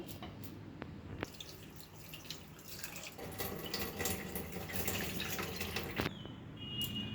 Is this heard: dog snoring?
no